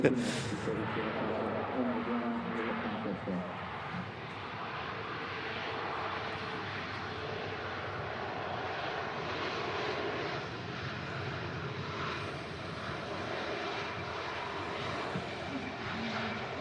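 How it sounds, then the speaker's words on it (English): A Lufthansa Airbus A321 out of Frankfurt at Manchester Airport gives a steady, fairly loud jet roar that holds evenly throughout, with people chatting over it. "Nice long aircraft here. The Lufthansa 321 from Frankfurt."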